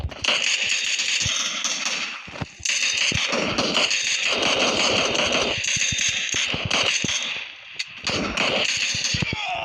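Gunfire in a video game crackles through a dense mix of game noise and bursts of talk, with several sharp shots standing out over a loud, busy background.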